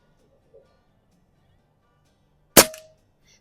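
A single sharp report from a Diana Stormrider air rifle firing a pellet at an outdoor range, a close, loud crack with a quick decay after a quiet stretch.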